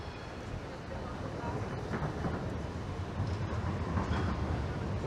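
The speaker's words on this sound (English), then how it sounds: "There's the number 17 tram" An Amsterdam number 17 tram passes through a busy main square near Leidseplein, a continuous rumbling roll of wheels on rails with wind buffeting the microphone and someone speaking over it.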